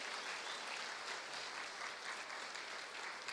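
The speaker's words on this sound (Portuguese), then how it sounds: "Aplauda o Senhor." A church congregation applauds in a continuous, even wash of clapping from many hands, heard from a distance at low level.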